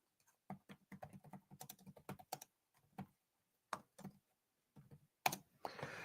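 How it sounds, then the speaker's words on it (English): Computer keyboard typing during a knife-focused livestream: irregular, close bursts of quick key clicks with short pauses between runs, and no talking. "I'm typing."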